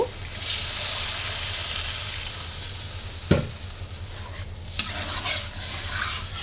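An egg and tomato mixture, cooked down thick and sticky, sizzles steadily in a wok while being stirred, with two sharp scraping knocks of the spatula standing out against the constant frying hiss; no one speaks.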